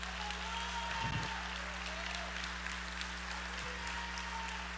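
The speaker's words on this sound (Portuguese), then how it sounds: "Será que você poderia aplaudir o nome do Senhor?" A church congregation applauds during a Sunday service, a faint, distant, steady patter of clapping over a constant low hum, with one soft thump early on.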